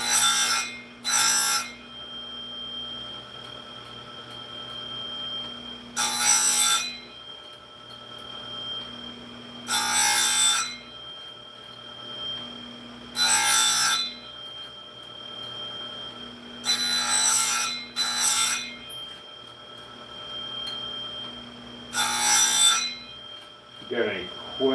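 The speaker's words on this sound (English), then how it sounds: "sharpening some chains." Chainsaw chains are sharpened in short rasping bursts, about seven of them spaced a few seconds apart, each loud and bright, with a faint steady hum filling the quiet gaps between strokes.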